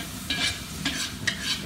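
Bacon fries in a 5-gallon pot over an outdoor cook for a fire department Cajun jambalaya fundraiser, with a low steady sizzle broken by three scraping stirs.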